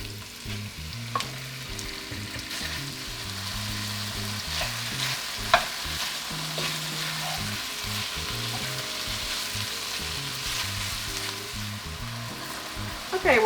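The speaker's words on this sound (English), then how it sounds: "Add a little bit more oil in the center. And then add about half this pork." Pork pieces for a white-wine stew fry in oil in a pan, giving a steady close sizzle with occasional stirring and scraping throughout and no talking.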